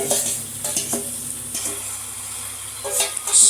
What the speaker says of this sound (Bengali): ও ও মুরগি চলে গেল কড়াইয়ের মধ্যে